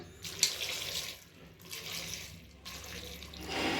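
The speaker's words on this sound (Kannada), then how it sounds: "ಸ್ವಲ್ಪ ನೀರು ಹಾಕೋಣ" Water poured into a pot while cooking ridge gourd upsaru, a spicy green chili broth. A soft, splashing stream runs in uneven bursts at low volume, with no talking.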